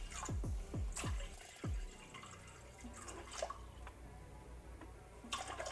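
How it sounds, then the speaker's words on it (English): Distilled water pours and gurgles into an autoclave, with a few bubbly plopping drips early on, then a softer steady trickle. "I'm just going to fill up my autoclave to that line. This is distilled water."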